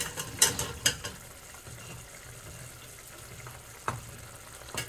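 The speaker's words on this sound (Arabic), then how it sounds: "نخلط اللحمة مع الكشنة كويس" Meat being stirred with fried onions in a pan for Yemeni fahsa, with a soft continuous sizzle broken by a few sharp scraping clatters of the utensil against the pan, close by and without voices.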